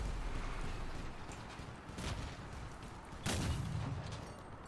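Cannons firing in the vehicle combat game Crossout, two heavy booms about a second apart amid a constant low rumble, the second blast slightly louder and trailing off.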